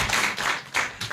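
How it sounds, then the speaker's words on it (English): Meeting attendees at an annual general meeting clap together in a short burst of steady, fairly loud applause with no talking over it. "We want to clap, let us clap then."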